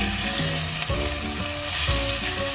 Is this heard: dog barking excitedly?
no